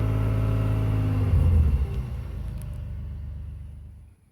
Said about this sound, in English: If I rev it up a little bit, the floor is actually vibrating.